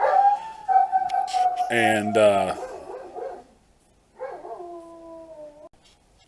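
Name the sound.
dog barking and howling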